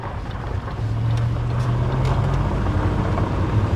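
A cheap, broken Range Rover that keeps flagging low coolant heads off-road, its engine giving a steady low drone that swells slightly and holds, with a rough rumbling undertone and no talk.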